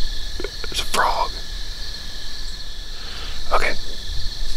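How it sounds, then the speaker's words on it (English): A frog croaks at night among steady chirping crickets while hunting a mature doe on public land; two short croaking bursts stand out over the continuous insect drone. "frog."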